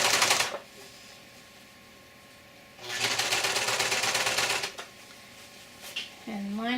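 A sewing machine stitching a seam on sleep shorts fabric, running in two bursts of rapid mechanical whirring, the longer one about two seconds, with quiet gaps of fabric handling between them.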